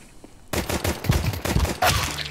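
Rapid bursts of gunfire in Counter-Strike on the Vertigo map in Wingman mode break in after a short quiet lead-in, with loud overlapping shots continuing close up to the end.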